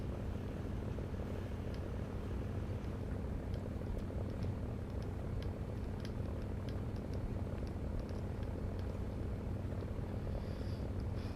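The engine of a Fw 190A aircraft drones steadily during takeoff and climb in War Thunder, a dense continuous low roar that holds at an even loudness throughout.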